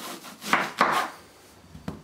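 A kitchen knife halves an onion on a cutting board while making tartiflette: two quick, close crunching cuts, then a softer thud of the blade meeting the board, crisp and alone with no talking.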